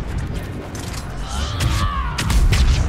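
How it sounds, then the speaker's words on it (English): An explosion in the video game Mass Effect 3 during combat: a dull, rumbling blast rolls out over ongoing battle noise, followed by further heavy thuds. "It's an explosion!"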